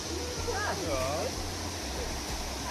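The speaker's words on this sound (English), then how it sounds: "Nice waterfall?" A waterfall on a jungle trek near Nong Khiaw, Laos, gives a steady, broad rushing roar of falling water, while voices and whoops sound over it.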